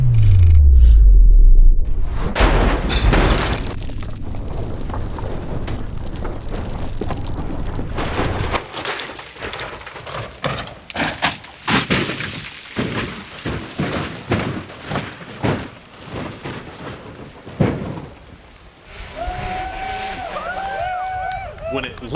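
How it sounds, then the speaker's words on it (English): A car wrapped in duct tape is launched off a mountainside at about 25 mph, with a loud roaring rush and heavy thumping impacts, then rattling and scraping, as people talk and exclaim over the noise. "Can you really launch it off the side of a mountain at 25 miles an hour and it withstand the impact of that first hit?"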